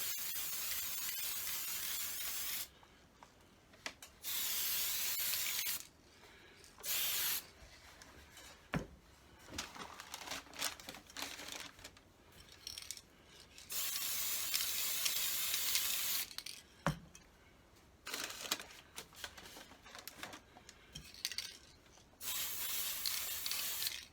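A spray can hisses out the second coat of paint on a P51 Mustang scale model in several steady bursts of varying length, with quiet gaps between passes.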